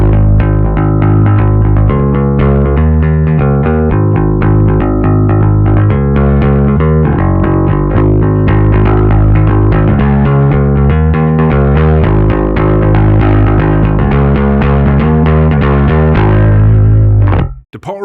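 Electric bass played through a Quilter Bass Block 800 amplifier on its QTube high-gain voice, giving a thick, distorted, sustained tone with a steady run of notes at full level, heard alone until an abrupt stop at the end.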